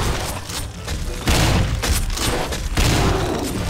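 Rapid gunfire rattles in the video game Beast Battle Simulator as a tyrannosaurus fires shots around a stadium, loud dense bursts with booming thuds that swell and restart in waves.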